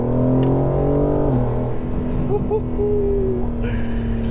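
A car engine revs on a smooth mountain road and drops in pitch as the driver shifts gear, then settles into a steady loud drone, with a person talking over it.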